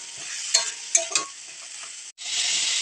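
Bottle gourd peel with salt and turmeric fries over a high flame, a bright, steady sizzle punctuated by three quick scraping stirs, then a brief pause before the hiss resumes.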